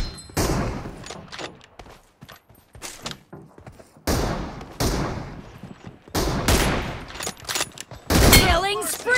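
Sniper rifle shots from an M24 in a BGMI team deathmatch, several loud sharp broadband cracks spaced a few seconds apart with game announcer voice and player chatter between them.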